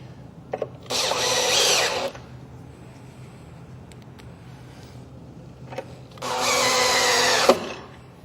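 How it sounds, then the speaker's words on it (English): A cordless power drill driving screws into siding brackets during an exterior installation, two steady whirring bursts of about a second each, close and loud, with a quiet pause between them. "just take our screws and put them in place"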